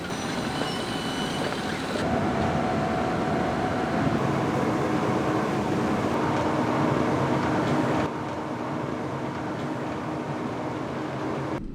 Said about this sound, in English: Here they are unloaded into a Breston reception hopper